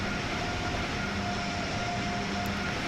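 Amtrak Acela high-speed train running in Train Sim World 3, a steady broadband rumble and rolling noise with faint tonal hum, continuous and fairly close, with no talking.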